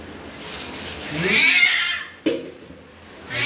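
A reluctant cat yowls and cries while being bathed, a drawn-out wail rising and falling near the microphone, then a short sharp cry and another yowl starting, with faint splashing water underneath.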